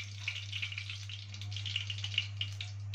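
Duck pieces frying in ghee and oil give a steady, close crackling sizzle with scattered pops over a low constant hum, no voices.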